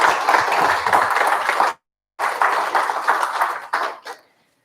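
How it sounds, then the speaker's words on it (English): A burst of ceremony applause at a military change of command, loud and close, breaks off for a moment, then resumes and fades in short trailing claps. "One more round of applause for all of them"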